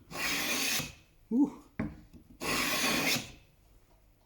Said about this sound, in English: I'm just going to run the plane over that